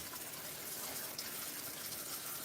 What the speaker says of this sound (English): I'm giving them a good rinse.